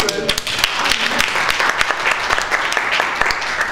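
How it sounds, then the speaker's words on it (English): A workshop group gets a round of applause from fellow participants, steady dense clapping filling the room for several seconds with some voices mixed in. "round of applause for this group"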